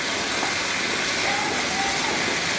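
Green chillies and salt sizzling in a hot pan as they are stir-fried, a steady dense hiss and crackle that holds evenly throughout, close and fairly loud.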